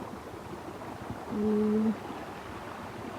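A river stream flows with a steady, even rush of water throughout, and a short humming tone rises briefly in the middle. One word is spoken quietly.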